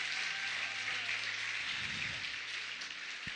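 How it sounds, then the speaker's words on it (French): A church congregation claps for God at a pastor's thanksgiving service, a dense, steady wash of applause lasting the whole stretch, with a low hum underneath. "Let's give God a clap of hand."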